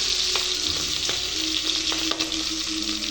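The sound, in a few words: chopped onion frying in oil with kalo jeera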